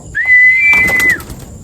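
A single clear, steady whistle-like call sounds from a bird by an aviary where pigeons are entering; it is close and loud and holds for about a second.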